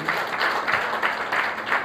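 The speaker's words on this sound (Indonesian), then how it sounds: "Tepuk tangan terbaik buat Tuhan" Congregation clapping in praise to God at a church service in a Ramayana store in Kupang, a short burst of steady crowd applause at moderate volume.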